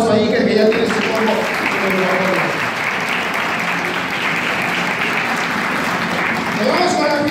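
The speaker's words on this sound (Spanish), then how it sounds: "Y denle un fuerte aplauso a Iker, que ya tiene su combo." Party guests at a child's birthday celebration applaud steadily for several seconds, a dense, continuous wash of clapping close by with voices mixed in.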